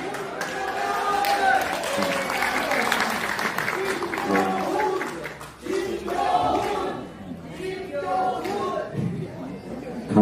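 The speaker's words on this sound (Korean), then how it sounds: "박수 한번 해주십시오" Audience applause at a heated political debate meeting in Seoul, a dense, sustained clatter of clapping mixed with crowd chatter and voices, loud throughout with a brief dip near the middle.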